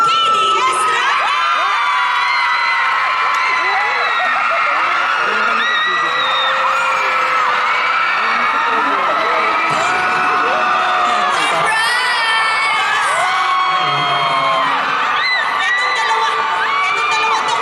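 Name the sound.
audience shouting and cheering a welcomed guest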